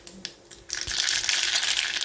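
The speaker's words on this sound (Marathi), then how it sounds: "मोहरी तडतडली आहे।" Mustard seeds tempering in hot oil for a dahi chutney burst into dense, loud crackling and popping after a quieter opening of a few soft knocks, spitting steadily to the end.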